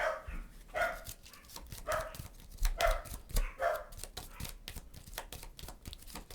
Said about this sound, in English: My dogs are barking at nothing.